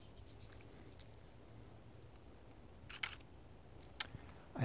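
A Nikon camera shutter fires during a selfie attempt, giving a couple of faint, sharp clicks against quiet room tone, spaced about a second apart.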